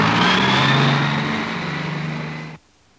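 A bus drives past, its steady mid-range engine drone loud at first, easing slightly, then cutting off abruptly near the end.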